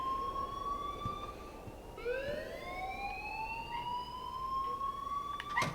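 A wailing electronic alarm rings in the video game Life is Strange, its rising and falling siren-like tones sweeping continuously and loudly throughout, with no other sounds standing out.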